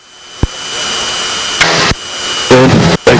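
Cessna 340 twin piston engine during a run-up magneto check, a steady loud drone with sudden bursts of harsher roar and brief dips as the power changes.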